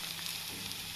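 Cumin and mustard seeds sizzling in hot oil for a tempering, a close, dense, continuous hiss with no pauses.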